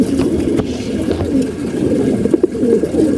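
Pigeons cooing in a home loft in Mirpur, with soft low murmuring calls overlapping close by in a steady chorus.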